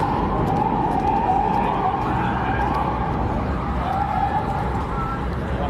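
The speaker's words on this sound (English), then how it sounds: "52 Chicago PD cars just flew down and all crossed on the street I'm trying to go" Chicago police cars race past in a loud, continuous roar of engines and road noise, with siren wails rising and falling faintly through the rush.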